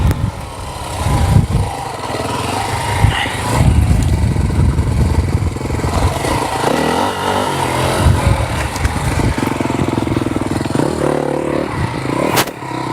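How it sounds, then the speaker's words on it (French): A motocross motorcycle climbing a hill roars loudly and close, its engine revving hard then easing off, with rough clattering and gritty noise throughout. "On prend bien l'élan, gros gaz en bas."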